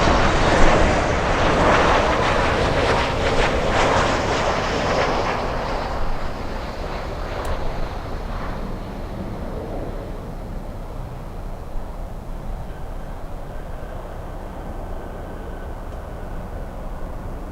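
A jet airliner landing on runway 9 at Miami International Airport, a loud broadband engine roar that is strongest at the start and gradually fades into a steady distant rumble, with no talk.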